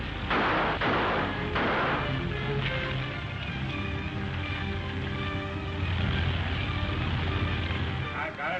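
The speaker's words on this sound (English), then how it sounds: "Gunfire!" Gunfire from an old film serial rings out as several sharp bursts early on, then gives way to a noisy rumbling background with voices talking.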